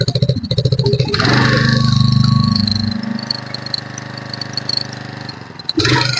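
A hydraulic rescue cutter's engine starts up and runs loudly at a steady idle for several seconds, its pitch easing as it settles, then cuts off before a final burst.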